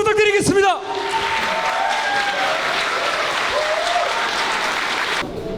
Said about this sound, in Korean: 누구보다 차가운 표정, 차가운 심장으로 블랙컴뱃의 화끈한 데뷔를 알린 예티 선수께 뜨거운 박수 부탁드리겠습니다